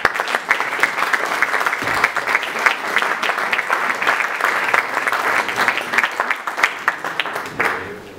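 Steady, dense audience applause fills a hall at the Podjetna Primorska 2014 business awards ceremony, many hands clapping continuously and loudly before tapering slightly at the end.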